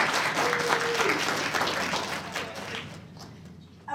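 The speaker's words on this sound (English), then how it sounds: "give them a round of applause" Audience applause at a live presentation, a broad wash of clapping that holds steady for a few seconds and then tapers off toward the end.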